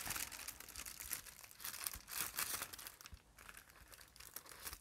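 Paper is folded over a piece being wrapped with string, giving close, continuous crinkling and rustling with brief sharper crackles.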